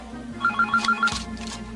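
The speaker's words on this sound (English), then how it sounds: "I know y'all motherfuckers heard the phone ringing." A telephone rings with a repeating electronic trill of evenly spaced tones, sounding clearly over a steady low background hum and bass-heavy music.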